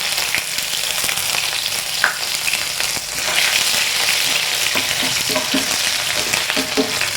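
Garlic cloves and a small piece of ginger fry in hot oil with mustard seeds, a loud, close, continuous sizzle broken by scraping stirs and light knocks of the spoon, with no speech.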